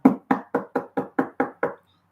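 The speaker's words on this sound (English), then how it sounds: "you're gonna get a knock on the door" Eight firm knocks on a door in a steady, even rhythm, close and loud, then silence.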